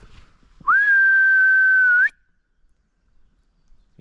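A person whistles once to call a dog out in the countryside, a single clear, steady, sustained note lasting over a second with a slight rise at the start and end, loud and alone against quiet surroundings.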